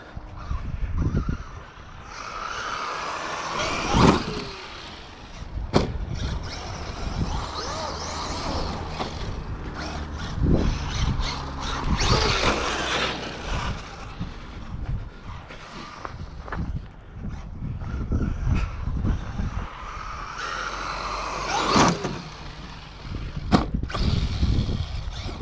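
A Traxxas Maxx Slash RC truck drives over rough outdoor ground, its motor whine and bouncing, rattling suspension sounding close and fairly steady throughout, with sharp knocks and thumps as it lands.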